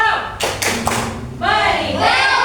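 A group performs a "tepuk wow" clap routine at a deep-learning teacher training session: a few sharp, close claps mixed with voices chanting along in rhythm.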